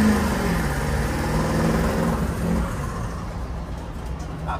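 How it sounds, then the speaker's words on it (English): A turbocharged van engine runs steadily with a mid-pitched drone and a faint turbo whine, heard from inside the cabin at moderate loudness and fading slightly toward the end. "See, the turbo is not that loud"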